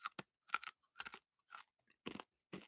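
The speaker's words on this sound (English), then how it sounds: "I'm crunching my cough drop here." A cough drop is crunched between the teeth, several sharp close crisp crunches in uneven bursts, alone in a quiet room.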